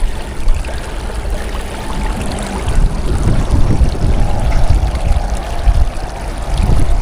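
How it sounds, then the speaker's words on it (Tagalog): Strong water current rushes through a tunnel at low tide, a loud continuous churning and gurgling that swells and grows heavier partway through, with no talking. "Malakas po ang agos ngayon kasi pababa yung tubig dahil nga low tide po"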